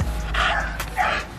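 A young American Bully puppy gives two short, high yips close to the microphone, spaced about half a second apart, with faint background noise.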